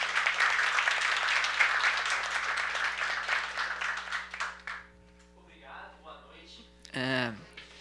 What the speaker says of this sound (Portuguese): Aí uma salva de palmas para ele.